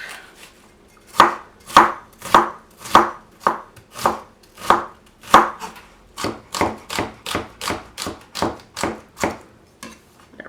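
A knife chops through an onion on a cutting board in a steady run of about fifteen crisp, evenly spaced strikes, close up and alone with no voices, as the onion is cut for zucchini soup.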